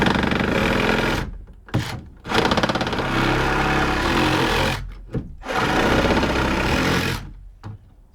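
A power saw whines loudly as it cuts grooves into wood for a porch ceiling, running in long steady passes broken by brief pauses, close and with no talking.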